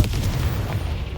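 A Confringo fire spell blasting in Hogwarts Legacy, a short, low boom followed by a rumbling burst that fades quickly, with no talk.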